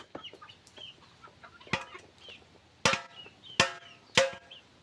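Chickens and ducks being fed by hand at a Bangladeshi farmstead, with soft clucks and scratching throughout and several sharp, loud knocks or pecks standing out near the listener.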